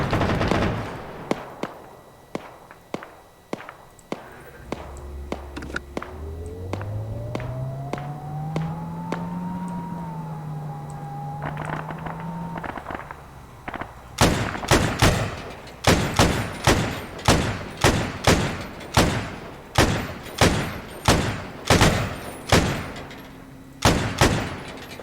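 Gunfire in ArmA 3 during an airbase raid on Utes: scattered distant shots at first over a rising engine whine, then a run of loud, evenly spaced heavy machine gun bursts near the end.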